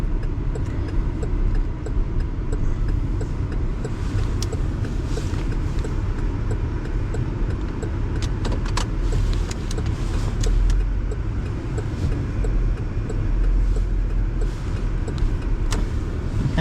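A car slowly backing into a spot, its steady low engine rumble continuous and fairly close, with a few faint clicks and rattles over the idle.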